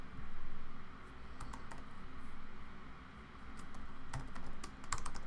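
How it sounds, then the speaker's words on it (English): Typing on a computer keyboard while working at a desk: scattered, quiet key clicks in short irregular clusters over a steady background hum, with no voices. "Let's type in controller."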